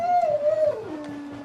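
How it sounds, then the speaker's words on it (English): A single close, clear dog howl glides slowly downward in pitch for over a second, rich in harmonics, with no other sounds around it. "he began to howl just as the moon set over the mountains"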